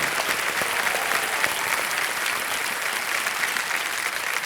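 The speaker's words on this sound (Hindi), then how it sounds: "तालियां बज जाए इनके लिए।" Studio audience applauding a contestant on a televised Hindi quiz show, dense continuous clapping at an even level for the full stretch.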